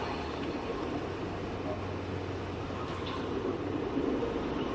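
A train passes in Grand Theft Auto III, a low steady rumble with faint rattling that stays continuous and moderately quiet for the whole stretch, with no voices over it.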